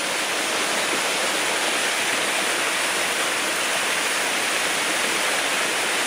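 A stream rushes steadily outdoors along an uphill walking route, a dense, continuous broadband wash of flowing water with no breaks, close and fairly loud, without any voices.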